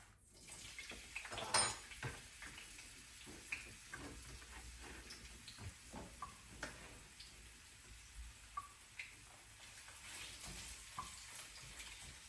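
Onions frying in a hot pot on low heat: a faint, soft sizzle with scattered small ticks and clicks of stirring, quiet and close, with no talk.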